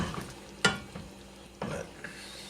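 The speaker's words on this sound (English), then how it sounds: "there's going to be moisture coming out of these mushrooms here once the mushrooms start cooking too" Portabella mushrooms and chicken cooking in a pan, a soft steady sizzle broken by a few sharp scrapes and knocks of stirring, close and fairly quiet with no talking.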